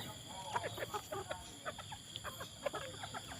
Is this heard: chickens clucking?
yes